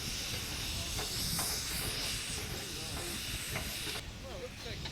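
Steam hissing from a traction engine at an outdoor steam gathering, a continuous broad hiss at low level with faint scattered clanks, the hiss dropping slightly near the end.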